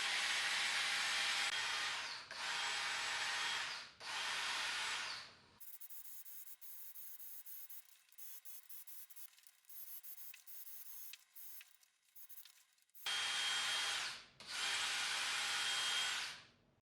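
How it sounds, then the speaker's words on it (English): A rubber buffer polishes a hazy car headlight lens that must be kept wet, whirring loudly in several bursts of one to three seconds, with a quieter, scratchier stretch in between and no talking. "You need to have moisture on the lens at all times when you're using the rubber buffer"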